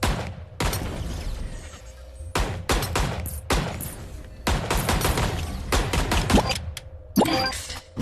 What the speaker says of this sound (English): Press trigger to fire your sidearm and eliminate all of the targets.